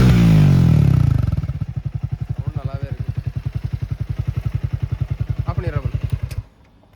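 A Triumph Speed T4 roadster's engine idles close by, a loud, steady stream of even thumping pulses that cuts off sharply near the end.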